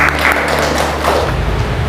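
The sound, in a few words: students clapping in classroom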